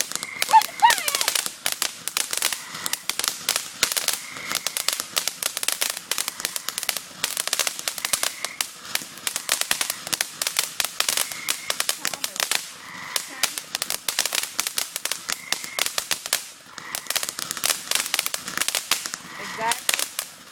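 Fireworks bursting outdoors in a dense, rapid barrage of sharp crackling pops that run almost continuously, with short lulls, while people nearby talk and exclaim over the noise.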